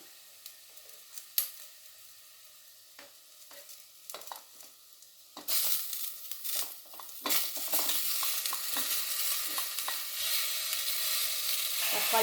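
Ginger, garlic and tomato being sautéed in a pan for tomato soup concentrate, starting with quiet utensil taps and stirring, then a loud, dense sizzle surging up midway as ingredients hit the hot oil, close and continuous.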